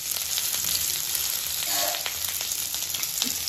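Onion, garlic and ginger frying in hot oil, a dense, even, close sizzle with faint crackles, steady throughout the short stretch, with no voices.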